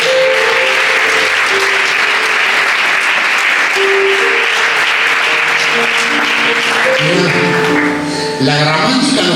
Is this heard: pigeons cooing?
no